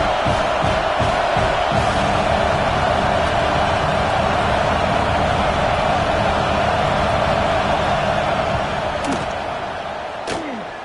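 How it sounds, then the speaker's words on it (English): Dense, continuous stadium crowd roar during a field goal attempt in a Madden football video game, loud and steady throughout with a few sharp impacts, easing slightly at the end. "This crowd trying to do its part to get inside the kicker's head."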